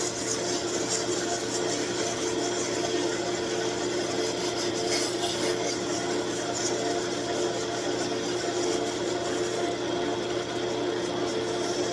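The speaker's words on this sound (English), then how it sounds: "And just a little sandpaper." Sandpaper held against a maple cribbage peg spinning on a wood lathe gives a steady, even rasping hiss over the motor's constant hum.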